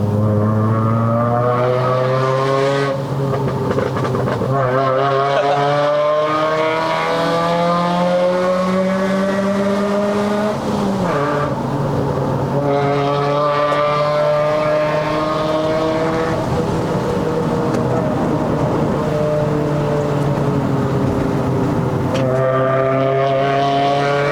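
Proton Inspira 2.0 petrol with a five-speed manual gearbox, engine revving hard through the gears on a steep uphill mountain climb to Genting, Malaysia. The engine drone rises and falls steadily with each gear change, loud and continuous with no talk.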